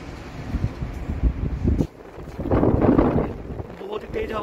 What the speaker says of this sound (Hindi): बहुत ही तेज हवा चल रही है, मैं खड़ा भी नहीं हो पा रहा यहाँ पे।